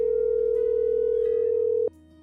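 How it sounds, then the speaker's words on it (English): Phone dial tone in the video game Farming Simulator 25, a steady continuous electronic hum heard alone for nearly two seconds before cutting off abruptly, leaving a faint background. "I'm gonna make a phone call."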